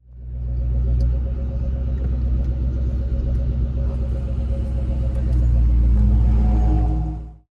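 A blue Ford Mustang Mach 1 drives away from a car show with a deep, steady engine rumble that stays loud and close throughout and swells slightly near the end before cutting off.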